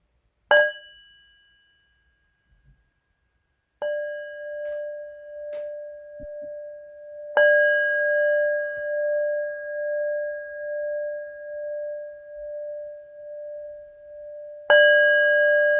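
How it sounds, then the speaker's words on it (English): Meditation bell struck four times at spaced intervals, each strike a clear ring that sustains and slowly pulses as it fades, calm and alone without any talk. "Matt, if you could invite the bell."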